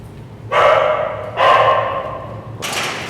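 Dog barking at an animal shelter in Kryvyi Rih: three loud, close bursts of barking, the last cut short, with a low hum underneath.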